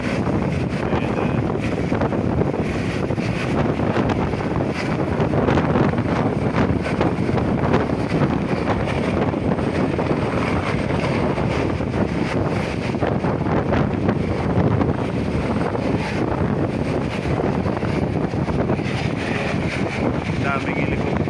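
A helicopter's rotor and engine roar steadily and loudly throughout as it lands, with wind buffeting the microphone and some voices in the background.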